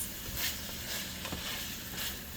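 Chopped carrots and peppers sizzle in a pan while being cooked as egg roll filling. A soft, steady frying hiss continues with faint stirring rustles and no voices.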